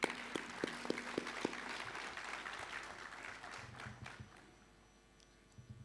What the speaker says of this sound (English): Shall we clap for that?